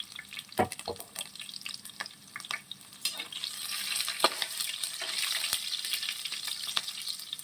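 Green chillies tossed into hot oil with mustard seeds and cumin for a potato curry, giving a steady close sizzle and crackle with a few sharp pops and stirring clinks, growing denser toward the end.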